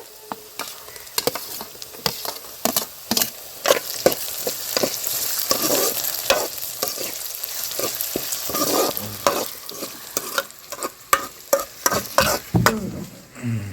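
Tomatoes frying in oil for village-style chicken pulusu, stirred with a utensil: steady sizzle under repeated scraping and clattering strokes against the pan, close and fairly loud, no talking.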